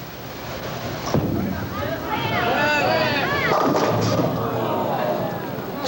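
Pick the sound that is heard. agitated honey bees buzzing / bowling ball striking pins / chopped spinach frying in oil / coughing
bowling ball striking pins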